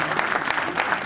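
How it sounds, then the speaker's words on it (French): Spectators at a rally awards ceremony clap for the crews being called up, a brief burst of crowd applause heard from a short distance. "on peut les applaudir"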